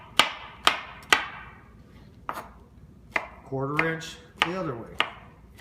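Knife chopping mushrooms into quarter-inch slices on a cutting board, with sharp, separate thunks at an uneven rhythm, close up, alongside a man's speech.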